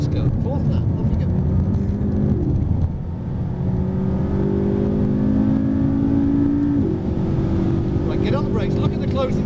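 A McLaren MP4 sports car lapping a track at speed at Prodrive Kenilworth, a steady loud engine drone with pitch rising through the gears, while people talk inside the car.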